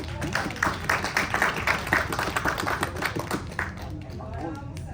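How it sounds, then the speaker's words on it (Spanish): A small group in a discipleship class claps together, a short burst of uneven close hand claps that fades out near the end. "Un aplauso para el grupo."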